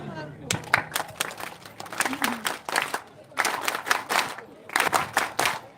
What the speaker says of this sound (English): Now let's clap in British.